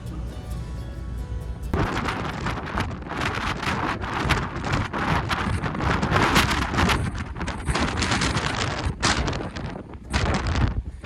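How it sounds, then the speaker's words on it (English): Strong wind roars and buffets a microphone outdoors on a ferry deck over the Bay of Biscay, steady and loud throughout, with a low rumble like a large vessel beneath it. "And it's very, very windy."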